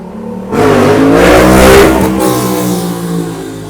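A motorcycle engine revs hard as the rider pulls a wheelie, the roar surging in loud and close after a brief quiet start, then holding steady and easing off slightly.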